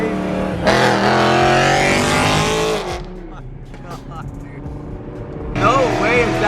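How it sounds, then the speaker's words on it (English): A BMW M3 E92 engine revs loudly with a roaring, rising whine, drops away briefly, then surges again near the end. "I forget how loud that car actually is"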